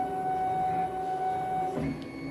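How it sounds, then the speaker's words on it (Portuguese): Paper loading into a cutting machine driven by Sure Cuts a Lot software, a steady motor whine with tonal hum that shifts pitch near the end as the sheet is drawn in, close and continuous. "A gente vai carregar a máquina."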